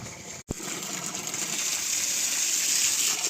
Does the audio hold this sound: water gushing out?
yes